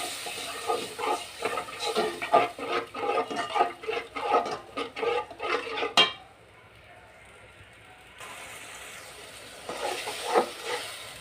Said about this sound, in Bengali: এখন আমি মশলাটাকে ভালোভাবে কষাবো।